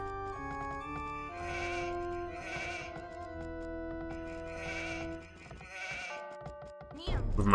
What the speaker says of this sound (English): Move my sheep away so they don't steal my sheep or my llama.